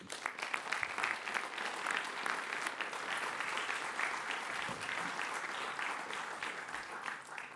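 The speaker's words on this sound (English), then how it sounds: "please help me with a big applause to congratulate her" Sustained applause from an audience at a transport studies talk and award presentation, steady dense clapping filling the room for several seconds without talk.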